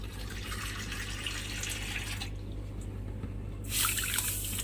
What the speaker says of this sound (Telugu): 1/2 కప్ షుగర్ వేసుకొని అదే 1/2 కప్ వాటర్ వేసుకోవాలి